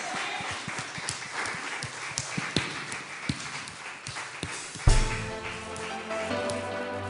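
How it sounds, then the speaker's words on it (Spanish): A church congregation claps in a steady rhythm with sharp, distinct handclaps that are fairly close. Partway through, a broad swell of sound rises and continues beneath the clapping. "Dale otro fuerte aplauso"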